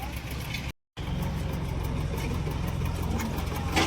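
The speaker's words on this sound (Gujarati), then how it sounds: "લાલાભાઈનું ડિફેન્ડર જાય છે ભરી" A loaded Land Rover Defender pulls away from a factory yard, its engine rumbling steadily and close, with a brief cut near the start.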